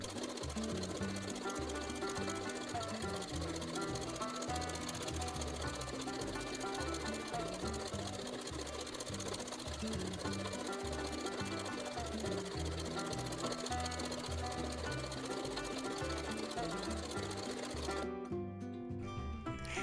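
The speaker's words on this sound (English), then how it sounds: "we're going to sew down on the opposite side" A sewing machine fitted with a walking foot quilts a line a quarter inch beside a seam, running steadily and loud close by in a fast rhythmic chatter for most of the stretch, then cutting out near the end.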